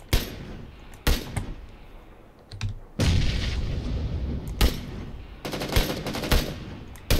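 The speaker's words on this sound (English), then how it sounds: "Separate teams firing on each other." Bursts of automatic gunfire traded between separate teams in a PUBG match, sharp distant cracks and rattling volleys coming in repeated clusters with gaps between them, no talk over it.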